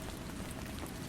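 Rain falls steadily on a surface, a dense, even patter of drops that fills the whole stretch at a moderate level, with no voices.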